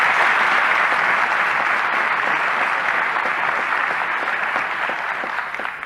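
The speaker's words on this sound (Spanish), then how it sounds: "Un aplauso para el compañero Lucho, de todo su equipo" Loud, dense applause from a large crowd at a Bolivian political event carries on steadily for several seconds, easing slightly toward the end.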